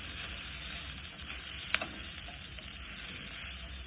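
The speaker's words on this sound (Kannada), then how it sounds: "ಇವಾಗ ಏನ್ ಇದಕ್ಕೆ ನಾನು ಫ್ರೈ ಮಾಡ್ಕೊಂತ ಇದೀನೋ ಇಷ್ಟೇ ಮಸಾಲೆನೆ ನಾನು ಹಾಕೋದು." Chilli chicken masala frying in a pan, giving a steady, soft sizzle and hiss with a single sharp clink partway through.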